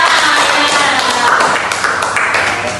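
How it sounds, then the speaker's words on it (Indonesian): Classroom applause for a student group during a lesson on electric circuits, a dense loud wash of many hands clapping together, fading slightly toward the end. "Tepuk tangan untuk kelompoknya."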